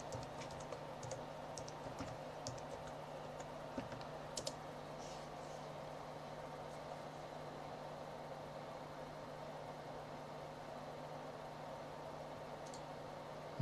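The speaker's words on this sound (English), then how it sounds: "And type the password." Someone types a password on a computer keyboard: a run of quiet, close key taps that come mostly in the first few seconds, over a steady low hum of the machine.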